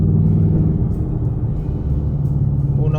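Inside a 2025 Ford Mustang GT, the engine rumbles low and steady as the car shifts up through the gears, the tone dipping briefly between gears.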